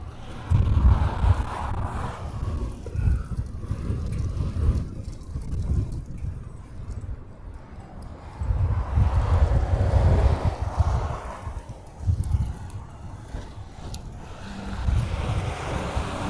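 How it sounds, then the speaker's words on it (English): Strong wind buffets an outdoor microphone at an airport plane-spotting spot in Honolulu, Hawaii, a loud continuous low rumble that surges and eases in gusts throughout, with no voices. "Every time I pan all the way to the right, the wind picks up."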